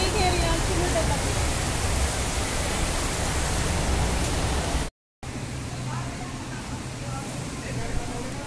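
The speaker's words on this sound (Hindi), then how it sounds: "फिर से तेज़ हो गई बारिश" Heavy monsoon rain pours down in Haldwani, a loud, steady hissing roar that cuts out for a moment before continuing just as strongly.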